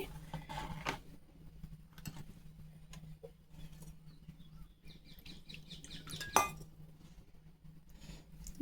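A metal spoon stirs almond powder into milk payasam with faint, scattered clinks against the vessel and one sharper ring, heard quietly over a low background hum.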